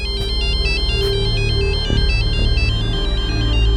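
A phone ringtone plays loudly and close, a repeating electronic melody of bright stepped tones.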